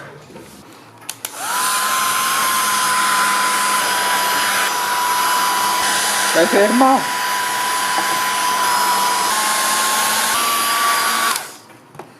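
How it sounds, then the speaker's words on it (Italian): A hair dryer starts up and blows steadily on wet putty at a loud, even pitch for about ten seconds, with a brief voice partway through, then switches off. "e adesso passiamo con il phon per far asciugare al volo lo stucco"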